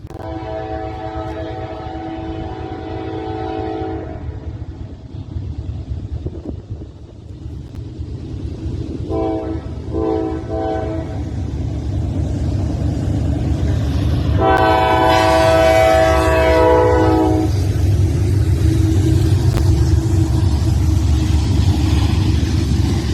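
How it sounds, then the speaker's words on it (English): A freight train led by a heavily weathered NS-9 locomotive with a CN ES44 behind rumbles past loudly. Three long horn blasts sound over it, the last one strongest, as the heavy rolling roar builds. "Next up we have B713. It's a very burnt NS-9 leading a CN ES44."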